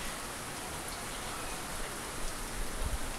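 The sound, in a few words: continuous typhoon rain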